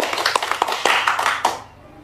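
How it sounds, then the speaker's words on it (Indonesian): Audience applause, many hands clapping together at a religious talk, a dense burst that rings loud for about a second and a half before tapering off to quiet. "Tepuk tangan."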